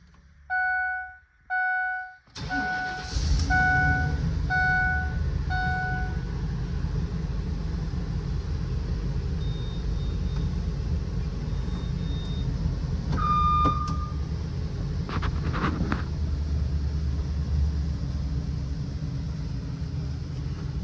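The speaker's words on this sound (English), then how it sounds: "I'm gonna try to crank it and see if I can't figure out a way to trick this idle limit" An old auction-bought vehicle, chained down in neutral with the parking brake set, chimes a few times before the engine cranks, catches and settles into a steady, loud rumbling idle that continues alone to the end.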